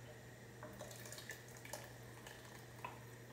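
Liquid poured into a pot of hearty chicken and wild rice soup gives a faint, continuous trickling splash in a quiet kitchen.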